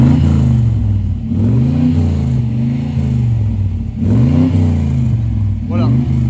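A 1982 Morgan Plus 8 convertible's V8 engine revs repeatedly, rising and falling in loud, close bursts with a deep throaty rumble, while someone speaks over it.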